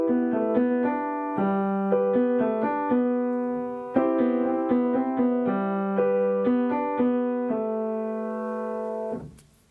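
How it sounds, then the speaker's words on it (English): Piano playing a song with both hands together, a clear close melody over sustained left-hand chords at a moderate tempo, ending on a held chord that fades out. "And hands together, it would sound like this."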